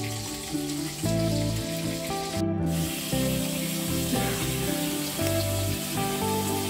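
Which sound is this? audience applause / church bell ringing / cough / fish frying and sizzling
fish frying and sizzling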